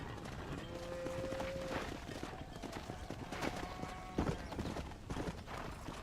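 Horse hooves clip-clop at a steady trot in the Red Dead Redemption video game, a soft, even rhythm under faint ambient game sound, with a brief short tone partway through.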